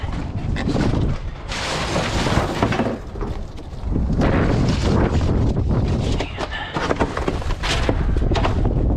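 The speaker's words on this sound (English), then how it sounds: "even if it is windy" Gusty wind buffets the microphone outdoors, near a body shop where scrap plastic conduit is being pulled. Loud, broad roaring surges rise and fall in waves, with brief lulls between gusts.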